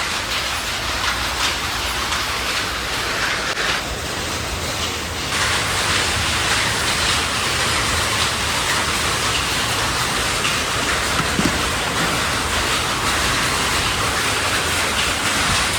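A continuous, heavy rushing rumble, like a metro train rolling past nearby at a metro station, holds steady without a break.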